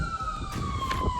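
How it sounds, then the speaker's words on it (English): Ambulance siren passing outside, a steady wailing tone slowly dropping in pitch as it moves away, heard from indoors at moderate loudness. "There's that ambulance."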